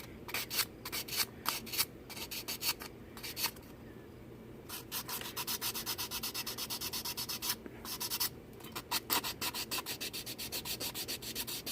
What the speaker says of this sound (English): take your sandpaper, and this time when you're taking your sandpaper, you kind of want to sand over the edge